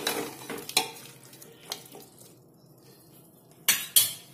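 Jackfruit curry sweetened with jaggery gets stirred in a pressure cooker pot, with a few sharp spoon knocks and scrapes against the metal separated by quiet gaps.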